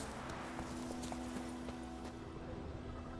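Roach, the horse in the video game The Witcher 3, trots along with a quick, even run of hoofbeats, fairly faint over a steady low hum, with no talk.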